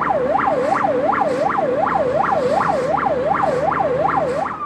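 An ambulance siren sounds loud and close, with a rapid, evenly repeating wail that rises and falls about twice a second and runs without a break.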